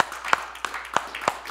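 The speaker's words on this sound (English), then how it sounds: "Give the Lord a hand clap." A church congregation claps by hand in a slow, even rhythm, four or five distinct claps close by, with soft voices underneath.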